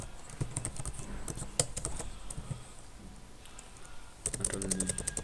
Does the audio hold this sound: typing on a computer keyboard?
yes